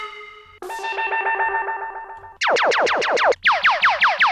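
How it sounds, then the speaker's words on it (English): A string of ragga-style electronic sound effects from a sample pack: a sustained buzzy tone, then rapid descending laser-like zaps repeating in quick succession, loud and close. "it's got effects, so it's got like ragga effects"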